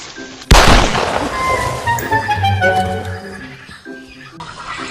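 A single sharp gunshot cracks out in a pirate comedy scene, loud and close, followed by ringing echoes and a busy mix of tonal sound effects as it fades.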